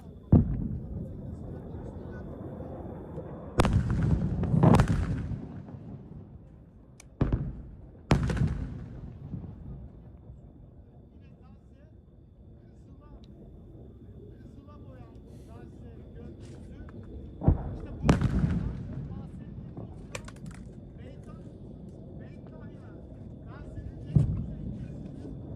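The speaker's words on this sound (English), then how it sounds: "We see the airstrikes continuing" Airstrike explosions in Gaza, heard as several sharp, loud booms spread at irregular intervals over a low steady rumble, with quieter stretches between blasts.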